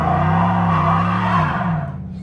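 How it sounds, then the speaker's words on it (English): A 2021 Chevrolet Silverado Z71 pickup does a burnout, its tires giving a loud, sustained squeal over the engine drone before the sound tapers off near the end. "I'm a little curious if this thing will do a burnout"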